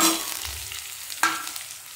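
Onion browning in hot oil with peanuts, chilies and cumin for poha, a soft close sizzle broken by spoon stirs and one sharp scrape partway through, with no voices.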